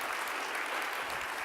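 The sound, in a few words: audience applause for panelists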